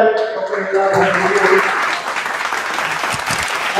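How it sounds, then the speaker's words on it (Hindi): Audience applause at a gathering in Pauri, rising into a full, sustained round of clapping after a closing musical or spoken flourish, moderately loud and continuous. "बहुत बहुत धन्यवाद। जोरदार ताली।"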